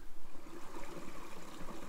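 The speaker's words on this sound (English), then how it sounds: "Little creek right at the back of us." Small creek flowing right behind a Colorado campsite, a soft steady trickle and burble of shallow water over stones, close by and continuous with no voices.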